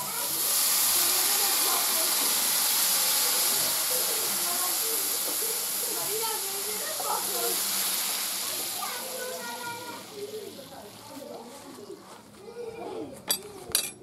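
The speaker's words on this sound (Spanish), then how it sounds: "Ponemos el caldo que está muy muy caliente." Very hot broth poured into a pan of black squid rice with carabineros prawns, giving a steady loud hiss and bubbling sizzle that slowly fades, with a few clinks of utensils near the end.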